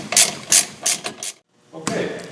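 A ratchet tightens brake caliper pins on a 2005 Chevy Avalanche, giving four short close rasping bursts, a brief pause, then a longer burst.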